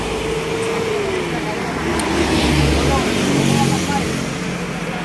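Vehicles pass along a highway in Agusan del Norte, with cars, buses and jeepneys making a continuous roadway roar. The sound swells and fades as they go by, and voices talk over it.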